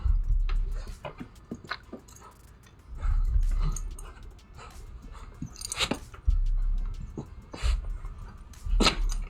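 A puppy dog whimpers and pants in short bursts, close by and moderately loud, with soft chewing-like rustles between the cries.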